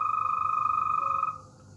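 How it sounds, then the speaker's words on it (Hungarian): A toad's steady, high trilling call rings out continuously for over a second, then cuts off abruptly, leaving quiet background noise. "És hát ez a varangy,"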